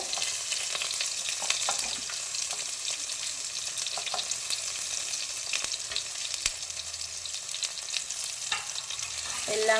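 Tomato, shallots and green chili sautéing in hot coconut oil for a fish curry with ground coconut: a steady close sizzle with occasional stirring scrapes, alone and fairly soft.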